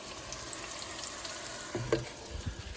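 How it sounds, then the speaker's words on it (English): Sausages fry in a pan on a home kitchen stove, a soft, continuous sizzle and crackle heard quietly with a few small clinks and bumps near the end. "I've also got some sausages cooking over here."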